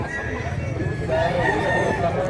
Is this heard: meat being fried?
no